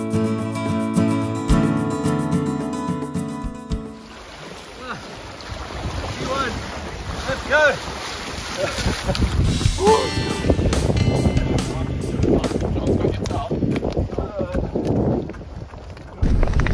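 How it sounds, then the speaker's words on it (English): Strong wind buffets the microphone over choppy water, with slapping waves and a steady roar; a voice speaks briefly beneath the noise. "seriously windy, choppy waters"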